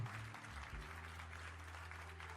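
Sustained applause from a church congregation, dense and steady throughout, with a low hum of music or organ underneath.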